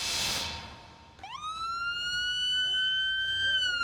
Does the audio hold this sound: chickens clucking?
no